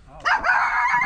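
A single brief dog bark or yip rings out close by, a sharp burst that quickly trails off, heard on a household visit during a grocery handout interview.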